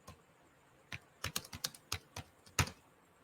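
Code being entered on a computer keyboard during a programming lesson, heard as a few scattered keystrokes followed by a quick irregular burst of clicky taps, close and clear with no talking.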